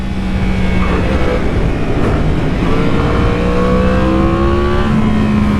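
Cars circulating on a race track used as a test track, engine notes rising and sliding steadily in pitch as the vehicles accelerate and pass, loud and continuous with no talking.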